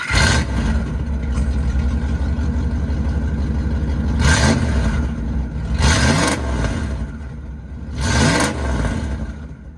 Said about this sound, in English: We'll get this fired up, give it a couple revs